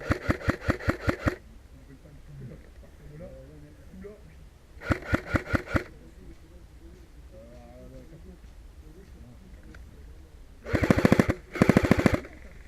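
Airsoft guns firing in a French forest game, three bursts of rapid full-auto shots at the start, middle and end, loud and close, with quiet voices talking between bursts.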